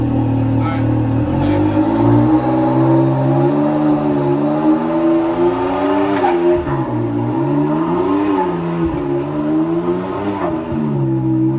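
A Can-Am Maverick X3 UTV with billet clutches revs on launch control set to 3,500 rpm: a loud engine holding a steady high rev, its tone wobbling and rising in pitch, continuous and close throughout.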